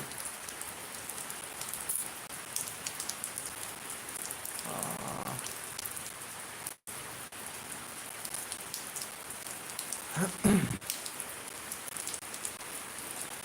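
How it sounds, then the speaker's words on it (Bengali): Heavy rain falls in Shariatpur, a constant close patter on surfaces with a few brief louder splashes and knocks, no voices. "বৃষ্টি দেখলাম বললাম যে লাইভে যাই দেখি দেখায় বৃষ্টি কত হচ্ছে"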